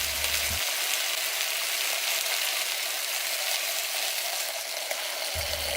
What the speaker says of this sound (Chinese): 加进全部的香料一起炒香， 煎出香味后下玫瑰露酒炝锅